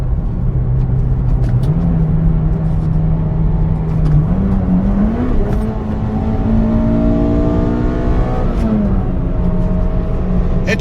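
A Toyota Matrix XRS's high-compression 2ZZ engine revs continuously, its pitch stepping up in jumps as gears drop, then climbing and settling into a steady loud drone.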